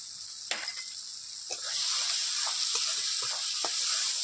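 Spices with salt and turmeric fry in a pan, making a loud, steady sizzle that swells after a couple of seconds, punctuated by sharp scrapes and taps of a stirring utensil.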